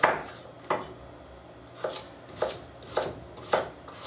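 A knife chopping a quartered carrot into chunks on a cutting board while preparing short ribs in red wine sauce, six or seven crisp, separate chops spaced about half a second apart, close and fairly loud with no talking.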